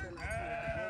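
Goats bleat in a large flock, a herd of about a thousand goats guarded by a dozen dogs, the cries rising steadily and overlapping close by with no talk.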